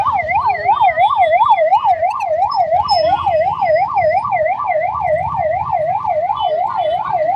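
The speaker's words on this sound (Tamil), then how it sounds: "வழிவிடு வழிவிடு. ஆம்புலன்ஸ் வழிவிடு." An ambulance siren wails loudly in a steady rising-and-falling pattern as it moves through a disability rights street protest in Tamil Nadu, with crowd and traffic rumble underneath.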